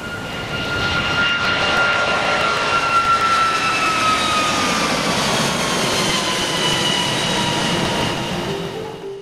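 A fixed-wing airplane passing over a beach near Phuket Airport, a loud, sustained engine roar with a slowly falling whine that fills the whole stretch and fades slightly at the end.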